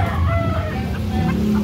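A White Kelso rooster crows loudly and close at a chicken market in Cebu, its call rising over steady low background rumble and chatter from the crowd.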